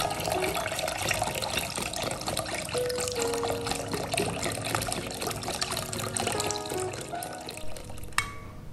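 Full cream milk, about a litre, pours steadily into a container while making an iced fruit dessert: a continuous close liquid splash and gurgle lasting several seconds before it stops.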